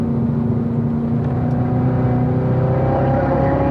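A car engine drones steadily on a race track at Spring Mountain, a dense continuous hum building slightly in pitch as the throttle is fed in, close and loud with no break.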